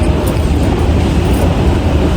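A Bengaluru metro train arriving at a station platform: a steady, loud low rumble of rolling rail cars fills the whole moment, with no voices over it.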